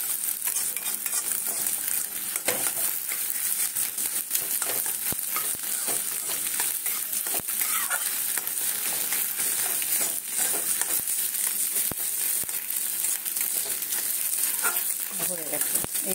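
Egg bhujia fries in a pan with a steady, loud sizzle, broken by repeated scraping and stirring strokes throughout, with no talking.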